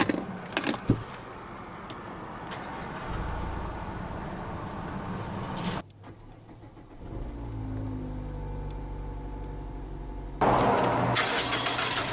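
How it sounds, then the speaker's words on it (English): Faint clicks and a soft chime come before the 2.5-litre engine of a 2025 Mazda CX-5 turns over via push-button start and settles into a quiet, steady idle, heard from inside the car. "let's go ahead and start the engine, and it does have push-button ignition"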